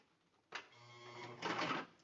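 Sewing machine stitching a car trash bag with pockets, running in a short near burst of steady mechanical whir that builds and peaks near the end, with no talk.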